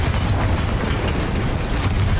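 Loud, dense blast from the Bombarda spell in the video game Hogwarts Legacy, a booming explosion with rumbling low end that fills the whole moment without pause.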